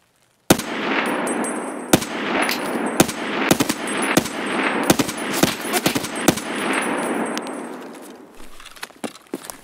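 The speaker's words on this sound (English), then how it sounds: "We're gonna shoot him. And then we're gonna shoot this one." Rapid bursts of gunfire fired at rogues in Escape From Tarkov, with sharp, loud shots in quick clusters over a steady roar, then tapering into scattered faint shots near the end.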